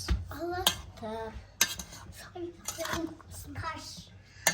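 A large spoon scrapes and clinks against a bowl while rice salad is stirred together with mayonnaise, the irregular metallic taps sounding close and quiet, with a voice talking in between.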